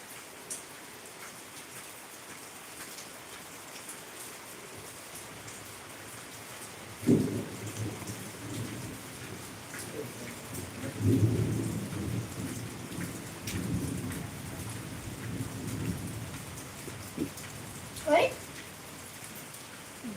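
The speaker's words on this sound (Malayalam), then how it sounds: "നല്ല മഴയാണ് ഇപ്പം" Heavy rain falls as a steady wash, with a distant rumble of thunder swelling through the middle and voices speaking now and then.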